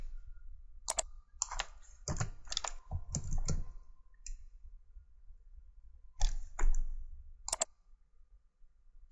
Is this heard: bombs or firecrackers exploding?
no